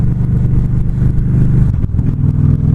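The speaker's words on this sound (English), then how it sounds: "that, my friend, was called a clutchless upshift" A car engine hums and revs close by under load as the driver shifts into fourth gear without the clutch. The engine note dips and rises during the shift.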